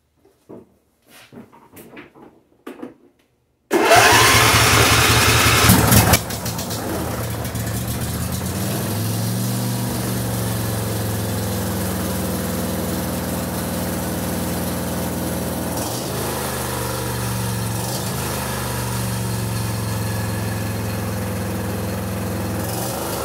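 A John Deere D170 lawn tractor engine catches on starting fluid and roars loudly, then settles into a steady, rough running drone after a few seconds of quiet handling noises.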